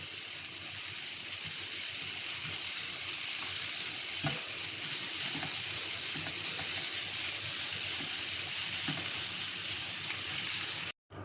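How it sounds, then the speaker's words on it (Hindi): Onions frying with chicken keema in a pan, a steady close sizzle and crackle throughout with occasional soft stirring scrapes and clicks, no talking, cutting off abruptly at the end. "प्याज को कीमे के साथ अच्छी तरह से 2 से 3 मिनट भून लेंगे"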